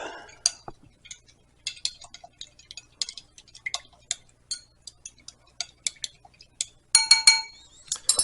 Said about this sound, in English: So we're going to go ahead and put this powder in there, and we're going to mix this up